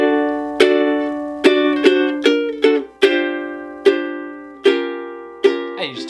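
A ukulele plays the intro to a song: about nine clear strummed chords, each ringing out and decaying, with a quick flurry of notes at the end.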